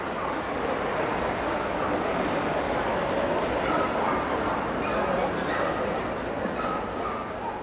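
Dogs bark and yip amid the steady crowd hubbub of the Westminster Dog Show, the barks dense and continuous under busy indoor noise.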